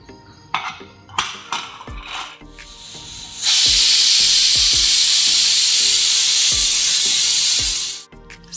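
Pressure cooker releasing a loud, sustained steam whistle while cooking menthya rice, preceded by a few short hissing puffs and metallic rattles, then a steady hiss that cuts off abruptly.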